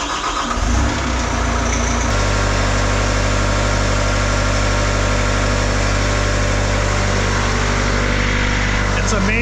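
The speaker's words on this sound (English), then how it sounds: "I'll pull the Bobcat out and let it warm up, give you a shot of it pulling out" Bobcat T66 diesel track loader starts up and settles into a loud, steady mid-pitched rumble with a strong even tone, heard close and continuous throughout, on a snowy winter site.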